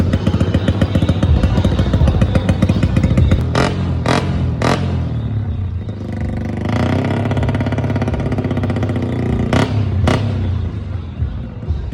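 A Honda Wave S125 motorcycle, a customized show bike that won a novice category, runs close by with a steady, loud buzzing engine drone, broken by several sharp metallic clacks and a shift in tone partway through.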